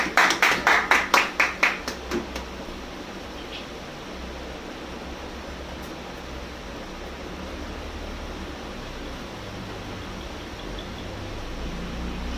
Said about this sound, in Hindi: मिस्टर प्रकाश, जोरदार तालियां होनी चाहिए